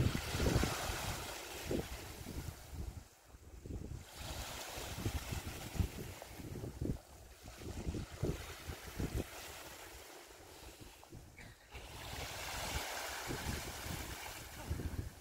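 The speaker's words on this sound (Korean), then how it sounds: "갑자기 바람이 부는데" Gusty wind blows outdoors by the water during a cast net throwing lesson, a rushing roar that rises and falls in several surges against the microphone, with a softer lull in the middle.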